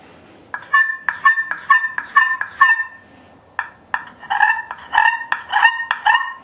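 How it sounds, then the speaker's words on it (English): Sharp, nasal turkey yelps from an aluminum friction call, played in two quick rhythmic bursts of repeated notes, loud and close with no talking. "Now this is also what we call an aluminum call."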